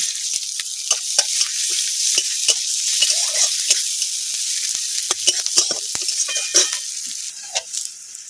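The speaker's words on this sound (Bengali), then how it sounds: "মাছ ভাজা তেলে আমি ফোড়নটা করে নেব দিয়ে দেবো শুকনো লঙ্কা দিয়ে দেবো দুটো তেজপাতা একটা পেঁয়াজ কুচিয়ে নিয়েছি" Dried red chillies, bay leaves and chopped onion tempering in hot mustard-style frying oil left from fish, a loud steady sizzle close up with frequent sharp pops and spatters and occasional stirring clicks.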